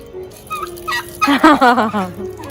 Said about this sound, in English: Oh, it's country chicken, I guess.